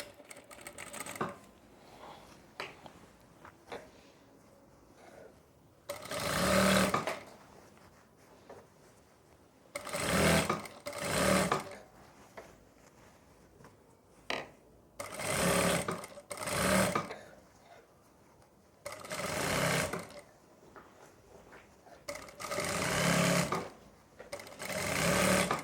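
Sewing machine stitching a sleeve onto a kurti, running in short uneven bursts of one to two seconds separated by pauses, close and fairly loud, with faint low sounds in the quiet gaps.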